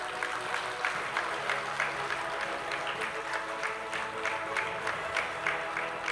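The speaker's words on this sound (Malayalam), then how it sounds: "ഇതാണ് കയ്യടി." Applause from the audience at the 25th Kerala conference of the State Bank of India Pensioners & Retirees Association, a steady patter of clapping held at an even level for several seconds, with faint murmurs mixed in.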